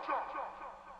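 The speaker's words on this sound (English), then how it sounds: "bandpass filter, which is acting as the kind of the telephone effect, I guess you'd call it. Along with some real sort of short delay and some reverb." A voice processed with a narrow bandpass telephone-style filter plus short delay and reverb, giving a thin, dubby, slightly echoing tone in a brief quiet snippet.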